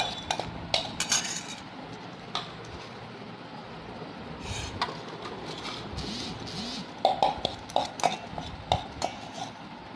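Homemade skincare product is scooped and pressed into a jar, with irregular close clinks and scrapes of a spoon against the container and a brief burst of rapid taps near the end.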